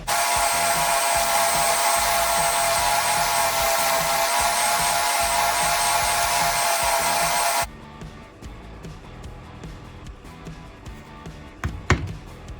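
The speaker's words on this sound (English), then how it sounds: "our next trip is over to the sander to get these all sanded and ready to go" A power sander hums loudly and evenly on wooden toy pieces for about eight seconds, then cuts off, leaving quiet room sound with a few light knocks and handling clatter.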